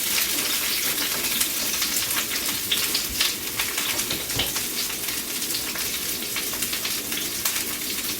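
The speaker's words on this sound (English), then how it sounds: "then we're going to add the vegetables" Vegetables sizzling in a hot pan for shredded beef fajitas, a steady dense crackle and hiss of frying that continues without pause, close and fairly loud.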